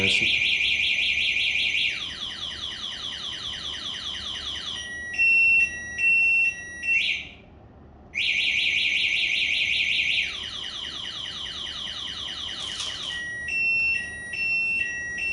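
An FF Lite scooter's alarm sounds after its lock button is pressed: loud, continuous electronic warbling siren tones that switch between patterns, with a short pause partway through.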